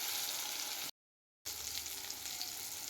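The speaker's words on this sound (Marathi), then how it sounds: "टॅमॅटो चांगला तळला गेला पाहिजे, तेलामध्ये भाजला गेला पाहिजे" Chopped tomato frying gently in oil over a low flame for a cashew masala curry, giving a soft, even sizzle broken by a brief moment of silence.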